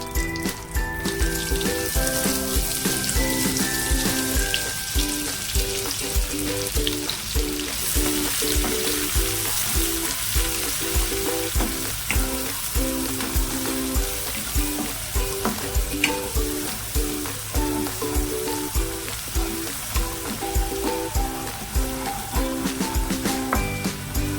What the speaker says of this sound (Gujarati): લસણને બરાબર આપણે શેકી લેવાનું છે.